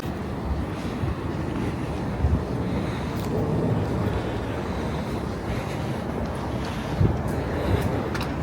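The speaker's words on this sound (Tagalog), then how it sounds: "medyo lumalakas na yung hangin dito" Strengthening outdoor wind in Japan, a steady, loud roar buffeting the microphone with occasional stronger gusts, continuous throughout without speech.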